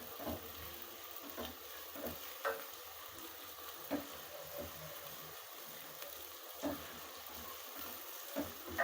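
Country chicken curry frying in a pan, a faint steady sizzle with occasional soft stirring clicks, quiet and without voices.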